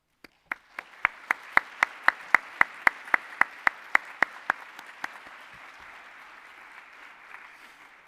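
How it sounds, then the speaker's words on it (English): Applause from a small audience at a university ambassador spring tea: a run of evenly spaced, crisp claps, then a soft, diffuse patter of scattered hands fading out near the end. "I would love it if we could all share a round of applause for each and every one of us."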